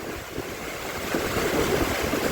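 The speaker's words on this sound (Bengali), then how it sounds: "আজকে জলের তোড়টা দেখো শুধু" Sea waves surge onto the shore at Mousuni Island, a swelling roar of surf that builds toward the end, mixed with gusty wind buffeting the microphone.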